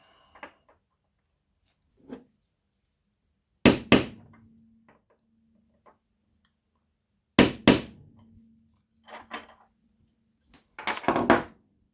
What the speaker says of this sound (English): I'll start by making slight indents in the copper with this prick punch.